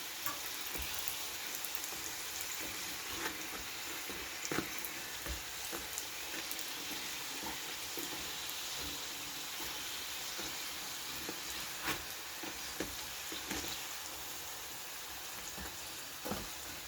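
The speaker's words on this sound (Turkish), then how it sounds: "Pişlerimizi kızarttık." Cornmeal pişi flatbread fries in a pan with a soft, steady sizzle and small scattered pops and crackles, close and quiet, with no talking.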